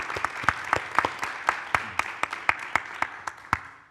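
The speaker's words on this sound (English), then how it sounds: "we should have a round of applause for Alison Jack and Gillian Mitchell" Audience applause at a festival panel on contemporary Scottish playwriting and religion, a fairly small crowd clapping in quick sharp strikes that start strong and gradually thin and fade.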